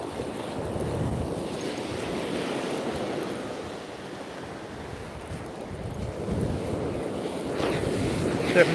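Big swell waves breaking on Walcott Beach at night, a steady rolling roar of surf mixed with wind buffeting the microphone, continuous and fairly loud, with no talking.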